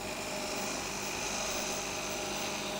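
A wood lathe spinning a spindle while a gouge makes an entry cut, giving a continuous, loud, dense whirring and cutting noise that holds steady and close throughout without pause or talk.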